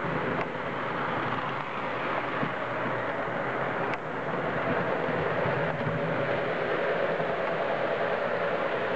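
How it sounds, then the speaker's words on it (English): Steady rumbling engine noise of a model diesel locomotive's built-in sound system, continuous and fairly even, with faint clanks and no talking. "one of the things I like about the diesel is that it has train sounds with it"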